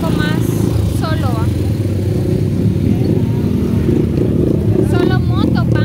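A motorcycle engine drones loudly past on a city street at night, close and steady, over heavy traffic rumble while people talk nearby.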